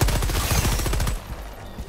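Stalwart machine gun from Helldivers 2 firing a rapid, dense burst for about a second, loud and close, then cutting off into a brief fading tail.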